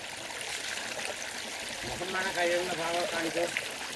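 A cold, clear forest stream in the Idukki jungle trickles and gurgles steadily at moderate distance, with faint bubbling tones rising partway through and a voice talking over the water.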